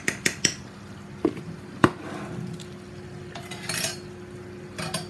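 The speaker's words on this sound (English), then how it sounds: "And I'll give it a stir." A metal spoon clinks and scrapes against a cooking pot while goat meat stew is stirred, a few sharp taps early then softer scraping, close and without talk.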